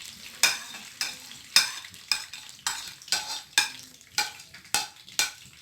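Grated bottle gourd (lauki) cooking in oil in a pan, stirred in a regular rhythm of about ten scraping strokes with a faint sizzle between them, close and clear with no talking.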